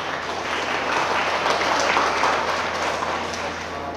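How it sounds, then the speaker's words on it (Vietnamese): An audience in a Buddhist talk setting breaks into loud, sustained applause, many hands clapping together in a dense, steady roar for several seconds. "Cho thầy cho một tràng vỗ tay đi."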